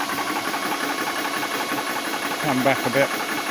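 A small air compressor fills a PCP air rifle, chugging in a steady, rapid knocking rhythm close by, with someone talking over it toward the end.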